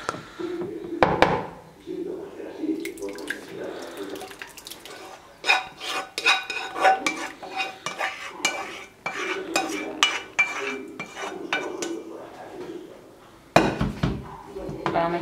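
Green plantain purée being stirred with sauce and cheese, a spoon scraping and clinking against the bowl in rapid irregular strokes, with someone talking in Spanish over it.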